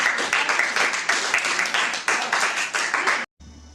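School audience applauding the Halloween contest winner, a dense burst of many hands clapping that runs steadily for about three seconds and then stops abruptly.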